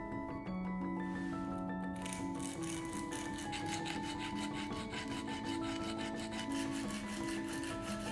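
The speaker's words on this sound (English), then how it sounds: "To make the transition even smoother, we used sandpaper tape like this." Sandpaper tape rubs steadily over an old metal wrench held in a vise, a continuous rasping scrape running throughout with no speech, close and fairly loud.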